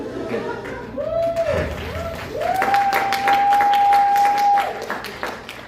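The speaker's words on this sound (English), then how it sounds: "A little applause break for the dad joke" A comedy club audience at the Tempe Improv breaks into applause after a joke, a swell of clapping and cheers that builds and holds, with a sustained whoop rising over the crowd and the comedian talking briefly over it.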